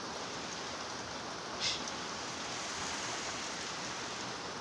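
Heavy rain pours down in a steady, dense hiss that fills the whole span evenly, with one brief brighter splash or patter near the middle and no voices.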